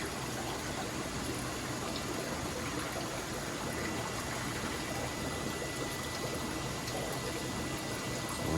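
Water slowly pouring into a planted aquarium tank, a steady even rush and trickle that holds at a constant level from start to finish with no voices.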